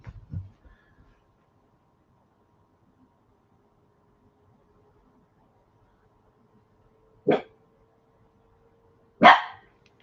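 A dog barks twice, sharp and fairly close, several seconds apart, after a brief indoor bump at the start, with a quiet room around it.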